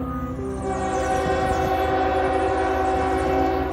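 A train rumbles steadily past while its horn blares in a long, loud, sustained tone over the rolling clatter of the cars.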